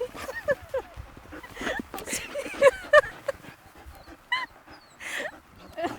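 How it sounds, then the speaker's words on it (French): A five-month-old puppy whimpers and yips in short high whines, scattered and close, with bits of talk and movement around it while a dog sled is prepared. "interrompu par un chiot de 5 mois."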